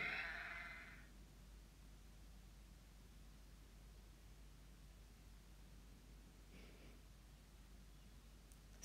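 A single sheep bleats clearly at the very start, then only a faint steady hiss of background noise continues, with a brief faint sound near the end.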